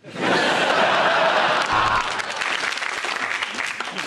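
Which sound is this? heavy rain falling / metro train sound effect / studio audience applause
studio audience applause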